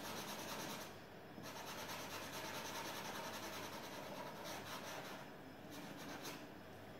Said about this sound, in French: on peut se permettre d'appuyer sur les traits et les faire serrer